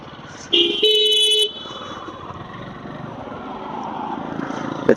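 Suzuki Gixxer motorcycle ridden through morning traffic on a broken road in Banani, with two sharp horn blasts from nearby vehicles early on, then a steady engine and traffic drone continuing underneath.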